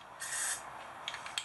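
Protective coating sprayed onto a Dodge Ram truck, likely a 2001 Ram 2500, as a steady hissing burst of about half a second, followed by a couple of shorter spurts, close and moderately loud, with no talking.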